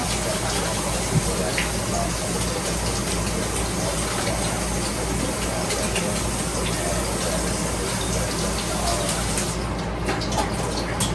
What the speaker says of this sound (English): And rinse this in cold water.